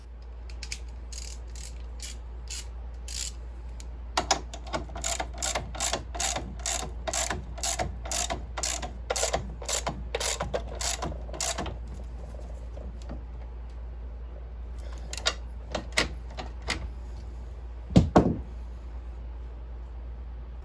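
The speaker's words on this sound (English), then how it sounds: "you can take your nut and put the nut on and tighten it up" A hand ratchet tightens a nut on the wheel shaft of a Toro Timemaster mower during transmission work, close rhythmic clicking strokes in a run, then a few scattered clicks and a clunk over a low hum.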